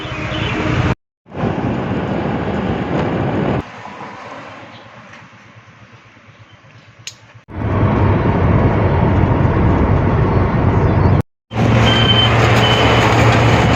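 Inside a moving truck, loud engine and road rumble drones on, broken by abrupt cuts and a quieter stretch, with a high beep tone audible near the end.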